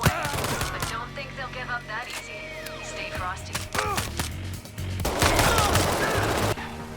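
Gunfire in the video game Payday 3 crackles in rapid, loud bursts of overlapping shots, close and busy, with brief pauses between volleys and a heavier sustained barrage near the end.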